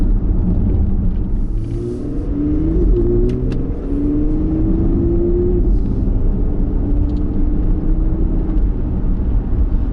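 Porsche Panamera E-Hybrid driven quickly, a steady close engine rumble with rising and falling revs under the road noise inside the car, continuous and fairly loud.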